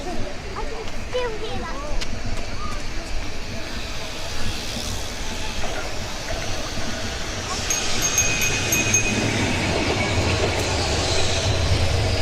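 A packed tram runs past, a steady rumble of wheels on rails with clattering and occasional high metallic squeals toward the end, heard continuously at close range.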